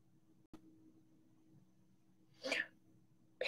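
A single short sneeze bursts out at mid-clip in a quiet indoor room, preceded by a faint tap and low background hum, with another brief sneeze-like burst cut off at the very end.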